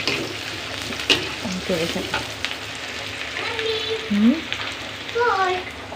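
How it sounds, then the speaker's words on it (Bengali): Onion, garlic and cumin sizzling in hot oil for a tempering, a steady crackling fry with occasional stirring scrapes, while faint voices come and go in the background. "এখানে পেঁয়াজ রসুন আর জিরা দিয়ে বাগার দিচ্ছি"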